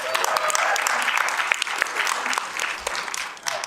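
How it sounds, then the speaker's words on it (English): Audience at a Detroit community panel event applauding steadily, a dense, fairly loud wash of clapping that holds for several seconds and eases slightly toward the end, with crowd noise beneath. "Give Martina another round of applause."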